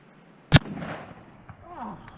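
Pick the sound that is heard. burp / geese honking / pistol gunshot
pistol gunshot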